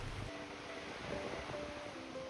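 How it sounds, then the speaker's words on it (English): Ocean waves wash onto a beach by a forest as a soft, continuous surf hiss with gentle swells, faint and distant, and a low tonal hum runs underneath. "This beach, where the waves caress the sand and the forest seems to whisper to the sea"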